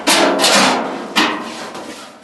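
A rear floorboard panel on a Plymouth Duster under restoration is knocked into place in a small garage, with two sharp, loud thumping impacts about a second apart, each followed by a ringing, scraping rustle of sheet metal.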